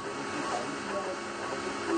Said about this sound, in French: une imprimante 3 dimensions, elle peut fabriquer toute seule n'importe quel objet